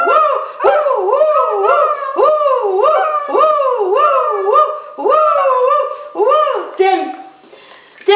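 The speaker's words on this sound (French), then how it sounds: "Ça fait aboyer le chien du coup." A dog lets out a steady run of close, loud howls and yelping wails, each rising and falling, that trail off near the end.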